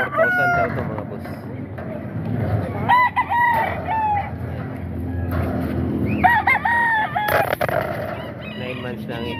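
A nine-month-old golden boy sweater rooster crows loudly at a Baliwag poultry market, with repeated crows, clucking from other fowl and a busy, noisy background.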